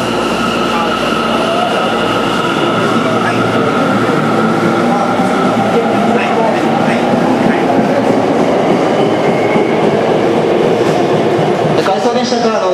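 A Tokyo Metro 10000 series subway train departs a station, with a loud continuous rumble of wheels and motors, rising whine and rail clatter, and faint station announcements underneath.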